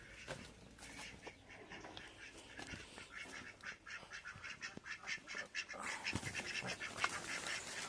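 Chickens squawk and call repeatedly outdoors in a series of short, uneven cries that swell toward the end, heard at moderate distance over faint background noise.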